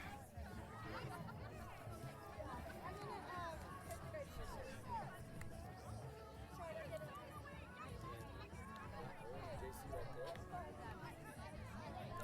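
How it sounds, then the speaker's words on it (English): Spectators at a cross country race finish in Evanston send up a steady crowd noise of chatter, calls and shouts of encouragement as runners come in. The hubbub stays dense and fairly even throughout. "The crowd trying to bring them all home."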